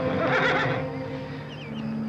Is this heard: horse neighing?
yes